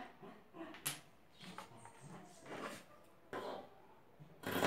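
A small pet dog barks, yips and whimpers fussily in short irregular bursts, fairly close but moderately quiet, in a home sewing space with low background noise.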